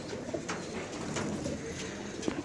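Pigeons cooing softly in a low, repeated murmur, several birds close together, with faint rustling around them.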